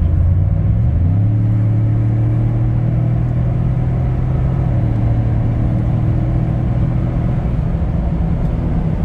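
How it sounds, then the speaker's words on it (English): A Ford F-150 pickup accelerates hard in sport mode on a snowy road as its turbos come on, a loud, steady engine rumble rising in pitch and holding a strong drone from close inside the cab. "Then the turbos are kicking in."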